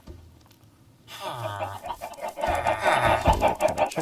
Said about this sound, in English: Little kind of chickens over there that kind of have overbred